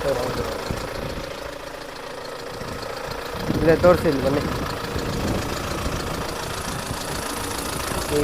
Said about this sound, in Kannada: ನೋಡೋಕ್ಕೆ ಇಂಜಿನು ಸಕ್ಕತ್ತಾಗಿದೆ, ಸೂಪರ್ ಇದೆ. ಸೌಂಡೇ ಎಲ್ಲ ಪೆಟ್ರೋಲ್ ಗಾಡಿ ಇದ್ದಂಗೆ ಇದೆ ಇದು